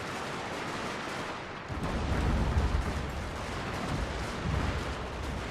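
Guns open fire in a large battle in the strategy game Fall of the Samurai, with a dense, rumbling roar of distant gunfire and artillery that swells after a short lull and continues steadily.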